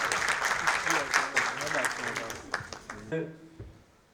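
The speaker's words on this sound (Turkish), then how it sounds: "Başkanımıza güçlü alkışlarla hoş geldin diyoruz." Audience applause at a public welcome event for a Turkish municipal mayor in Adana, a dense patter of many hands under a speaking voice, fading out near the end with a few scattered claps.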